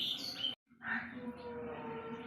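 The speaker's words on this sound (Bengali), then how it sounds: "দেখ পাখি আওয়াজ করছে, ধরবে।" A bird calls near a house cat, giving a couple of short, faint chirps with a brief pause between them.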